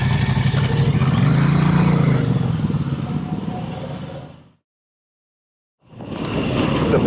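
A Moto Guzzi V85 TT motorcycle engine pulls hard, loud and close, its tone rising then easing over several seconds, cutting to silence briefly before the ride noise returns.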